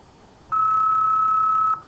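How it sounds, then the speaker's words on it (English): A steady siren-like electronic tone from a signal generator, standing in for a siren approaching in a Doppler-effect demonstration, sounds alone for just over a second as a single flat, unwavering pitch. "So the siren would sound like this coming towards you"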